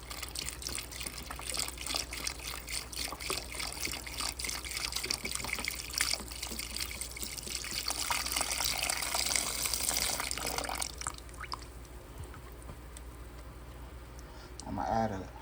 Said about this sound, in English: I'm gonna add a half a cup of water just to cover